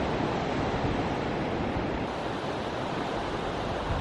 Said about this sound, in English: On to your right side is the ocean.